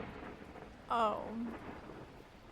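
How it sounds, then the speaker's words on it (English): Torrential rain with rumbling thunder in the video game Beacon Pines, a steady hiss of downpour throughout, briefly overlaid by a short spoken exclamation. "At that moment, the heavens opened up, unleashing torrential rain."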